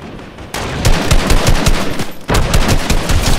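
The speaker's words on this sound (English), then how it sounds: "I'm getting shot from somewhere else." Rapid automatic gunfire in Fortnite, a loud close stream of evenly spaced shots in two sustained bursts separated by a brief gap.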